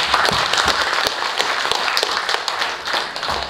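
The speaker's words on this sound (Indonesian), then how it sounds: "kita berikan aplaus untuk mereka, tepuk tangan untuk mereka" An audience at a formal gathering in West Kalimantan applauds, a sustained round of many hands clapping with distinct sharper claps standing out, loud and fairly close throughout.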